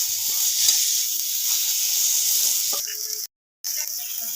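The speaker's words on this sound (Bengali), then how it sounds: "হলুদ গুঁড়ো, টমেটো, লবণ দেবো অল্প। ভালো করে সব মশলাগুলো কষিয়ে নেব।" Spices with turmeric, tomato and salt sauté in a pan for a fish curry with taro stolons, giving a steady bright hiss that holds throughout, broken by one brief dropout near the end.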